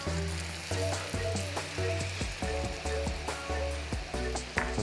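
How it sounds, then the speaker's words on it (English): Orange juice poured into hot burnt honey caramel, giving a loud, continuous bubbling sizzle with rhythmic clinks and stirring knocks throughout, close up and without talk. "I'm going to stop the cooking of the honey at this point by carefully adding some orange juice"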